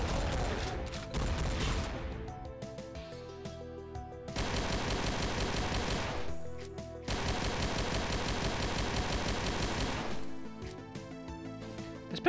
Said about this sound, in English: This pistol's ridiculously accurate for the kind of damage it does.